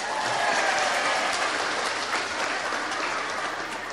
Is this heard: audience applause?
yes